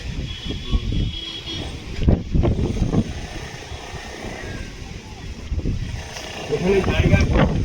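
Strong gusty storm wind on a hotel rooftop in Bhubaneswar rushes and buffets the microphone in uneven waves, with muffled voices underneath.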